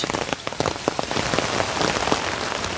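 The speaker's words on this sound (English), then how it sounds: "I really enjoy this kind of rainy day." Rain pours on a dirt road during a stormy day, a loud dense patter of drops spattering continuously nearby with no voices.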